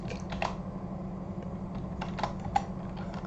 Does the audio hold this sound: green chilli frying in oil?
no